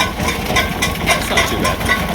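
A John Deere 70 diesel tractor pulling a New Idea 3632 box spreader while spreading manure gives a steady, loud, close engine drone that holds without a break.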